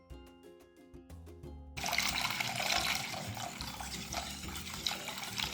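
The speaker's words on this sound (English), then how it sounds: "we add the rest of the watermelon juice." Watermelon juice pours steadily into a pot with a continuous splashing, trickling rush that follows a few soft tonal notes at the start, moderately close and with no talking.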